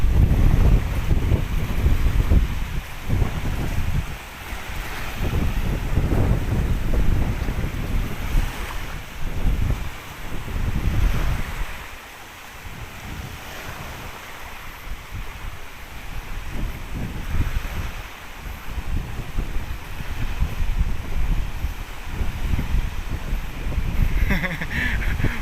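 Rough sea with whitecapped waves crashing in a continuous roar while strong wind buffets the microphone, loud and close, with no talking.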